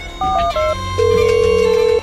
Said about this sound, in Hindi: Hello police. ए मोना, फोन कट कर, फोन कट कर।